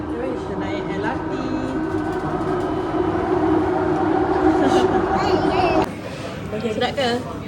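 Riding aboard an LRT train, the car gives a steady rumble and a high whining drone that drops off near the end, with people talking over it.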